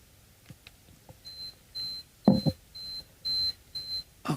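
A one-hour timer beeps six times in an even rhythm, short bright tones close and fairly loud, with a few clicks and a thump near the middle and faint room noise between beeps.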